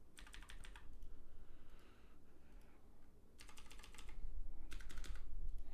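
Bursts of rapid keystrokes on a computer keyboard, three clear clusters of clicking separated by pauses, close and moderately loud over a low steady hum, no talking.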